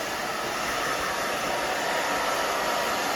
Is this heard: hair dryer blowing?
yes